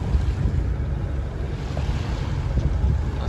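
A sailboat motoring under engine power on a windless sea within sight of Morocco gives a steady, low engine drone mixed with rushing water and buffeting wind noise against the microphone, continuous and unbroken.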